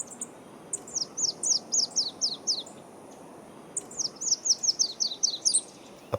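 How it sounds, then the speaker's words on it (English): Olive-capped warbler, a pine specialist of Cuba, calling in two rapid series of thin, high descending notes separated by a short pause, fairly close against a quiet background. "Secondly, olive-capped warbler."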